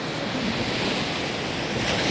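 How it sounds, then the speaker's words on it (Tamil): Beach surf at Karaikal on the Pondicherry coast, a steady broad roar of breaking waves mixed with wind buffeting the microphone, loud and continuous with no voices. "இப்போ பார்த்தீங்கன்னா நம்ம பீச் ஓரத்தில் இருக்கோம்."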